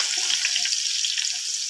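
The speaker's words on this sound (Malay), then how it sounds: "Goreng supaya minyak kita wangi guys." Soup leaves frying in hot oil over low heat while making Adabi fried rice, a steady bright sizzle and crackle throughout, close and even, with no voices.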